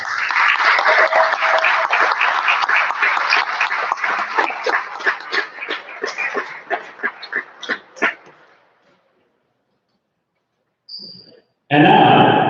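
Gym crowd applauding seniors and their families at Shepaug Valley School's Ted Alex Gymnasium before a boys varsity basketball game, steady clapping that thins to scattered claps and fades out, followed by brief silence and a burst of other sound.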